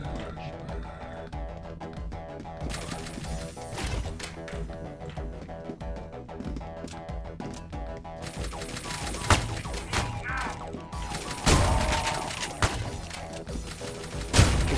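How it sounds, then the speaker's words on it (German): Grenades lobbed in the shooter game Ion Fury burst amid a dense, continuous run of gunfire and mechanical in-game action, with sharper blasts standing out near the end over a loud, busy mix. "da kommen Granaten angeflogen"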